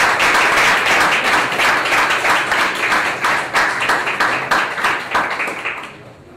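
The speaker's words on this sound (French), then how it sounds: "Je vous demande de les applaudir," An audience at a club launch event applauds the organising committee with steady, loud clapping that holds for several seconds, then thins out and fades near the end.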